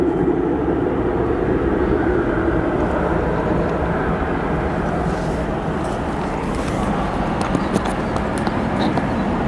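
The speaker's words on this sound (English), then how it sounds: "Atlas Air flight 8127 from Anchorage" An Atlas Air Boeing 747 from Anchorage at O'Hare gives a broad, steady jet roar that holds near-constant and fairly loud throughout, with a faint whine above the rumble.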